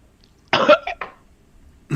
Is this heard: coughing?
yes